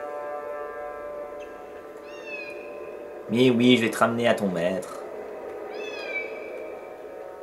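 A small lost kitten in the Harry Potter and the Philosopher's Stone game meows a few times amid music, the mews surrounded by someone talking in French.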